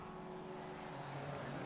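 Rallycross race car engines revving together on the starting grid at Barcelona, a dense steady roar with revs climbing slightly, heard at a distance and fairly quiet.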